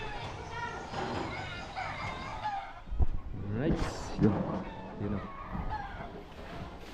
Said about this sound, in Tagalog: Ganda oh, mga tilaok ng manok doon oh.